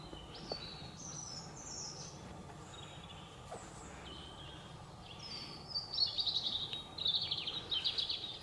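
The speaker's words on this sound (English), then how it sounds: "Just the sound of the birds." Birds sing and chirp at a rural heritage steam railway station on a cool autumn morning, with high twittering phrases that grow busier toward the end over a quiet background hum.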